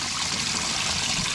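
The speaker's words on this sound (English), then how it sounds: "got a nice steady stream of water on the Livewell there." A steady stream of water pours into the livewell of a Bass Tracker 175 boat, a constant, even rushing trickle close by with no talk.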